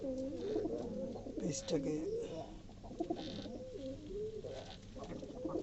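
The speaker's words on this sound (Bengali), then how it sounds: "দেখেন কবুতরগুলো, দেখেন তারা খুবই একটা অস্বস্তিতে আছে।" Pigeons coo close by in soft, rolling, repeated calls that carry through the whole stretch, with a person talking briefly over them.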